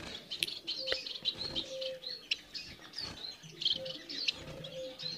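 Bengalese finches in a home aviary chirping and calling repeatedly, short bright tweets overlapping at close range with a few lower coos and rustles.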